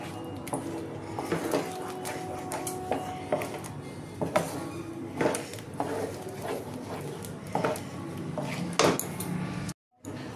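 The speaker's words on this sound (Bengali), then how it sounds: "এবার আমি পাউডারটা দিয়ে দেবো, দিয়ে এবার সমানে নাড়তে থাকবো" A custard powder mixture being stirred steadily in a pan on the stove: repeated metallic scraping and clinking of a spoon against the pan, close up and continuous, ending with a brief moment of silence.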